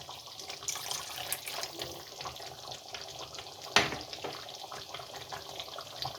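Water runs and splashes into a pan of egg curry with fried eggs in spiced masala, low and steady, with a brief sharper splash partway through.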